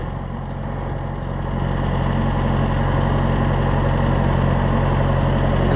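An Oliver 1250 (Fiat 415) tractor engine idles steadily, a loud, close, low rhythmic diesel chug that grows slightly louder after the first second and holds constant.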